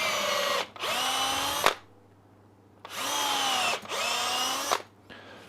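A power drill fitted with a 7.5mm bit bores into a wooden bowl blank on the centre mark, running in two long, steady, close whining bursts with a short pause between them.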